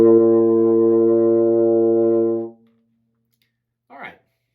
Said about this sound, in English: It's the lowest note that you can easily play with no valves, and it sounds like this.